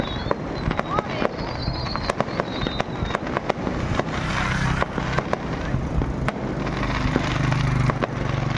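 Fireworks bursting over a town on New Year's Eve 2023, with repeated sharp cracks and booms at irregular intervals over a dense, rumbling crowd and ambient noise, voices murmuring throughout.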